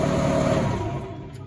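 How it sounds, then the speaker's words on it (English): An older Bobcat skid-steer loader's engine runs loud, then its roar fades and winds down as it is shut off, with a faint high tick near the end and no speech. "I'm just going to shut the engine off here."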